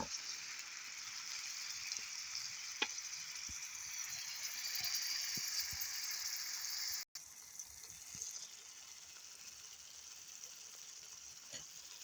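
Tomatoes and meat simmer in a pan for an Ethiopian egg-and-meat dish, giving a steady, moderately quiet bubbling sizzle with faint scattered pops and a brief dropout partway through.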